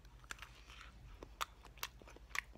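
Someone bites into a deviled egg and chews, making faint, soft close-up mouth sounds with a few sharper clicks and smacks at uneven intervals.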